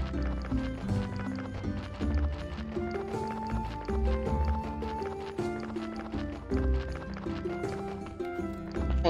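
Donkey hooves clip-clop in the farming game Graveyard Keeper, a steady, loud trotting rhythm that runs throughout, layered over busy game music.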